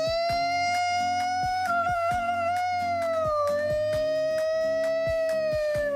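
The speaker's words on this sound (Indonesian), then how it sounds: "Ambulan." A sustained, gently wavering ambulance siren wail, used as a sound effect in a children's storytelling episode, plays over a steady rhythmic backing beat with no voices.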